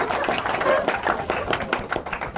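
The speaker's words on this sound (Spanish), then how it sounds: "un aplauso para el espermatozoide" Students in a class clap in applause, a quick uneven burst of hand claps that runs for a couple of seconds.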